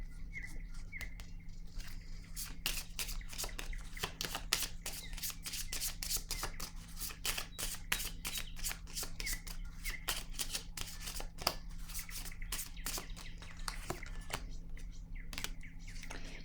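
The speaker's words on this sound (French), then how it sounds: "Je vais piger une autre carte." Tarot-style cards shuffled and drawn from a deck during a reading, a steady run of quick papery flicks and riffles close by over a low constant hum, with no talking.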